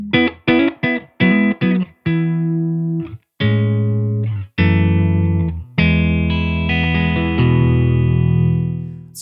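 Electric guitar through a Benson Amps Monarch Reverb amp with a clean, reverb-soaked tone: a few short plucked chords, then longer ringing chords that sustain and decay, played alone.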